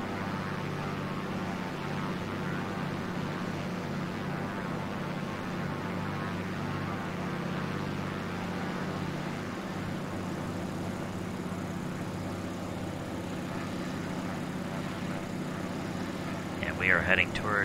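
A steady propeller engine drone from a MilViz Beaver floatplane climbing out in Flight Simulator X hums throughout, a constant airplane roar with a brief higher sound near the end.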